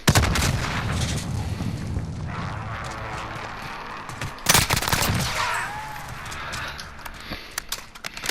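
Bursts of gunfire in Call of Duty Warzone, a dense rattle of shots with a loud crack near the middle, set against continuous game ambience and effects.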